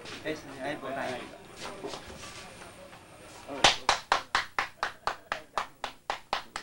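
Guests at a 1990 village wedding break into applause, a burst of many hands followed by a dozen or so steady, rhythmic claps, loud and close, after some murmured talk and shuffling.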